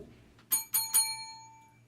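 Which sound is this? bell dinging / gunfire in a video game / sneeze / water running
bell dinging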